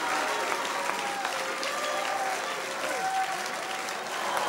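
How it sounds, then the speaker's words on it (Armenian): Steady, dense audience applause for two people called up beside the host at a project event, sustained evenly throughout with a faint tone or voice surfacing briefly. "Ծափարենք նրանց։"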